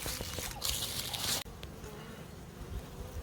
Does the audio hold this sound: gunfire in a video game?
no